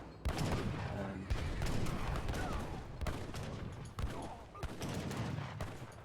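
Culverin cannons in Age of Empires III firing on skirmishers amid battle, repeated sharp booming shots in irregular volleys over a dense layer of gunfire and combat noise.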